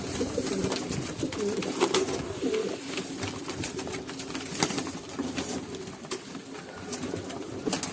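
Pigeons cooing softly nearby with scattered pecking and small taps as birds feed on mineral mix, continuous and fairly quiet, no voices.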